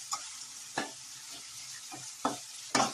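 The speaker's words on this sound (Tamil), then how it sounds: "இப்போ உப்பு போட்டு நல்லா நம்ம வதக்கிக்கலாம்." Onions sautéing with salt in a pan for kathirikai kara kuzhambu, a soft low sizzle broken by a few sharp spatula scrapes and taps spaced irregularly, close and fairly quiet with no voices.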